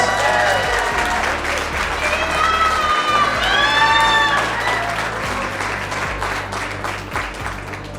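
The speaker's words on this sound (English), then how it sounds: "let's give her a nice round of applause" Audience applause at a construction industry chapter event, a sustained, dense clapping from a sizable crowd with a few whoops and cheers, steady and close, gradually tapering near the end.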